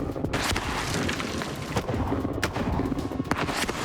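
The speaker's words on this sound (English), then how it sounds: "After 2 shots, the rifled gun is already demonstrating its superiority." Rifled artillery gun firing, heavy booms and rumbling blasts layered over a continuous roar of battle noise, several sharp reports standing out over dense low rumble.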